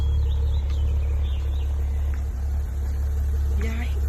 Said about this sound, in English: Y'all heard that engine?